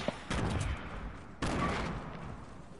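Sniper gunfire in a video game: two sharp, loud reports about a second apart, each trailing off into a fading echo.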